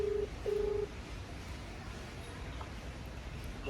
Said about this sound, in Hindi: तो अभी लगाते हैं उनको फ़ोन।